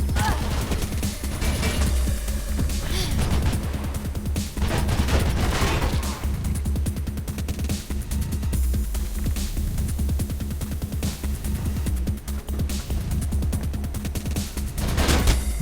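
Gunfire from shooting enemies in the video game Mirror's Edge: dense, sustained bursts of rapid shots and crashes fill the whole stretch at steady loudness, with a thick low rumble underneath.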